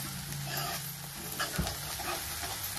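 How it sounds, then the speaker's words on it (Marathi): Masala spices for an egg curry fry in oil, a faint, steady sizzle with soft stirring scrapes and one brief knock midway. "जास्त वेळ पण घालवली नाही तर आपला मसाला पूर्ण तळून झालेला आहे"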